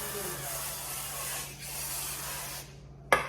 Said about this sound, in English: We sprayed it with some avocado oil.